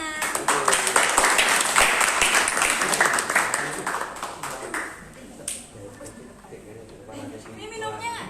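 Applause from an audience at a school democracy-themed event, a burst of clapping that thins after about five seconds, giving way to speech and scattered chatter.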